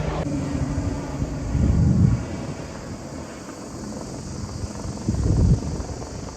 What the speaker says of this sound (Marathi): कंटिन्यू हेलिकॉप्टर जातात येतात